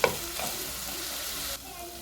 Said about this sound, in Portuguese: E agora eu vou deixar fritar.